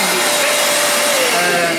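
An Ozito 1250W 20L wet and dry vacuum cleaner switches on and runs with a loud, steady motor whine and broadband airflow roar throughout, with no talk over it.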